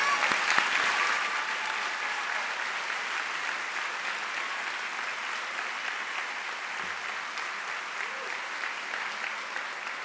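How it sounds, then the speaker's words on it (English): An audience applauds the Saldaña family as they stand at an event on empowering 21st-century learners, a sustained, even wash of many hands clapping at a moderate level throughout. "let the family stand so we can applaud the family"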